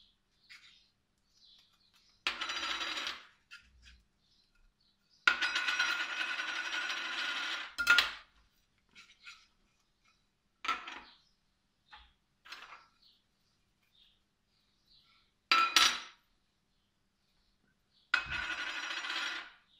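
Steel tartlet moulds for apricot tartlets clink and scrape as they are handled and buttered, with several separate bursts of metallic rattling between quiet pauses, close by and fairly loud.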